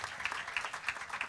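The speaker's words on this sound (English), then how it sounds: "So a big round of applause to all these three people." Faint applause at the valedictory function of a food science and technology conference, a brief distant patter of clapping hands with a soft rhythmic pulse.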